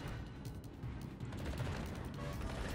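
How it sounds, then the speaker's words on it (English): Anti-aircraft guns in World of Warships fire in a dense, continuous rattle of low booms and crackle, with steady battle noise and no clear pauses. "AA guns are in play"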